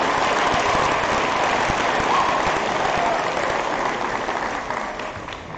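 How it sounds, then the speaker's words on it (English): A large audience applauds Math Counts students with a loud, dense wash of clapping that holds steady and then slowly fades toward the end. "I'm going to give everybody in Math Counts just a round of applause"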